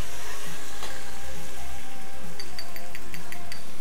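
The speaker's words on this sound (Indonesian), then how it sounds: "kemudian kembali diaduk." Garlic, onion and herbs sizzle in a hot pan in a hotel kitchen, a loud close crackle with stirring scrapes and a few light clinks of the utensil toward the end.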